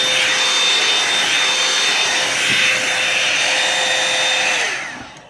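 A Revlon One-Step salon hair dryer and volumizer blows steadily on hair roots, a loud continuous whirring roar with a faint steady whine, brush rubbing faintly, before winding down and cutting off at the end.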